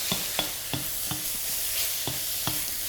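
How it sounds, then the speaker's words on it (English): Steak and mushrooms stir-fry in a very hot wok, a steady close sizzle broken by regular scraping strokes of the spatula every half second or so, with no talk. "So in with the mushrooms. Quick wok cooking. Nice high heat."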